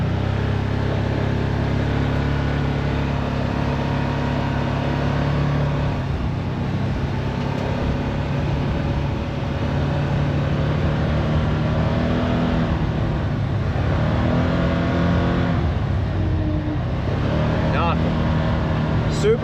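A 2025 Can-Am Commander MAX side-by-side driving in four-wheel drive, its engine and driveline giving a steady, continuous drone up close with no obvious whine, while someone talks over the ride.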